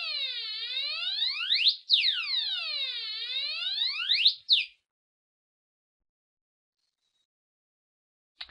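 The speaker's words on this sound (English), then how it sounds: "it's sweeping up and down all the frequencies" An Arduino tone generator fed through an amplifier gives loud electronic tones that sweep up and down in smooth repeated glides, cut off abruptly, then fall silent apart from a faint click near the end.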